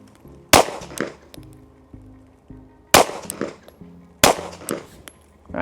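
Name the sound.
firearm shots fired with weak hand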